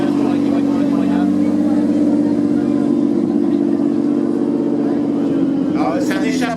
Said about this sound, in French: c'est un échappement sport hein